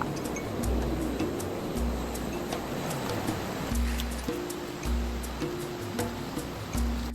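A river flows steadily at night beside a jungle shelter, a soft, constant rush of water with faint rustling and a low intermittent hum underneath.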